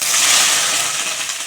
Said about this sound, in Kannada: ಒಗ್ಗರಣೆ ಹಾಕ್ಕೊಂಬಿಡ್ಬೇಕು.